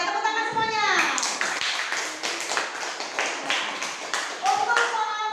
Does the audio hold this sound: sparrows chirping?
no